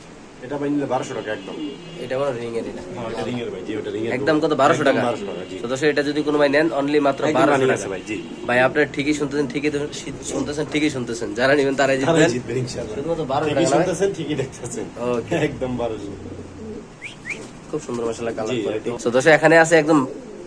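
Spanish pigeons coo softly at a pigeon sale, their low calls mixed into nearly continuous talk from nearby people.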